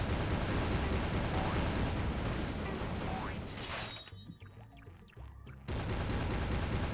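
Dense, continuous explosions and projectile blasts from the PSP game SpongeBob's Truth or Square rumble loudly, then briefly thin into scattered sharper bangs before the barrage resumes.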